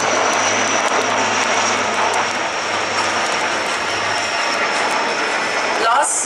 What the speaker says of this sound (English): we can now see the advanced light helicopter Mark I.